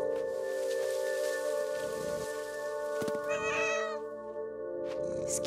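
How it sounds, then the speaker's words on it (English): Cats meow in the video game What Remains of Edith Finch, a few distinct meows rising over a sustained musical drone and soft ambient game sound, with no talking. "These cats. They can climb anything and everything."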